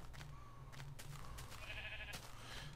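A sheep in a video game gives a few bleats over a steady low background hum, with no talking.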